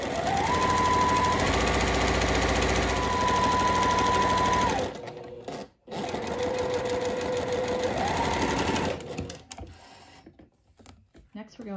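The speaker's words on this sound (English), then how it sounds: "sew a second line of stitching for each one at a centimeter or just under 1/2 inch" A sewing machine runs a second line of stitching along a seam on a floral sundress, with two long steady bursts of fast, even whirring separated by a brief pause, close and clear.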